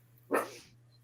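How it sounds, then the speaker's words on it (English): A single sharp dog bark rings out at moderate distance in a home, brief and loud over a constant low electrical hum, with quiet before and after. "Your dogs are very loud,"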